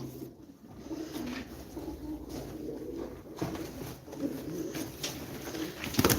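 Tumbler pigeons coo softly in low, throaty murmurs, repeated steadily at close range with faint rustling and no speech, at a live pigeon auction.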